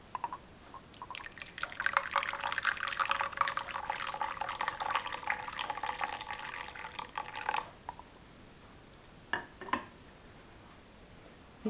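Water pours into a cup for green tea, a steady liquid stream running for several seconds at close range before cutting off, followed by a few brief drips.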